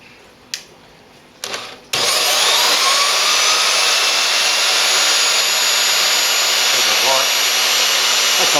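A few sharp clicks, then a Scheppach MBS1100 bandsaw whirs up and runs at low speed at a loud, steady pitch.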